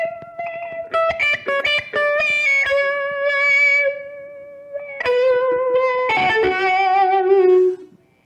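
Electric guitar played through a T-Rex Yoy-Yoy effects pedal, a string of plucked notes and sustained chords swept by a moving filter, loud and close with no talking.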